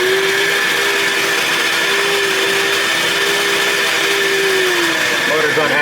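A Chevy engine with double-hump heads running rough, a loud continuous mechanical roar with a steady whine that drifts slightly in pitch, sounding strained throughout.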